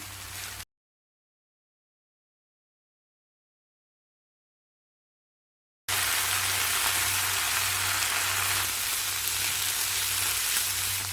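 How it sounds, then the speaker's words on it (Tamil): Ponnanganni greens sizzle steadily in a hot pan while being sautéed for a kootu, a dense continuous frying hiss that cuts out briefly near the start and then returns loud and unbroken. "இப்போ கீரை சேர்த்து வதக்கிடலாம் வதங்க வதங்க கீரை குறைஞ்சிடும்"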